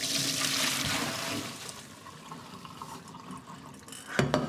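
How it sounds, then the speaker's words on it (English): Cooked green beans drained from a pan, water pouring and splashing for the first second or so, then trickling and dripping, with a short clattering burst near the end. "I'm going to drain the beans now because I do want them crunchy."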